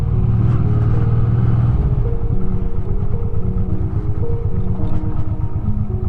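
A motorcycle rides along toward a palace on a park estate, its engine a steady, close low rumble throughout with slight shifts in pitch as it cruises, no talk.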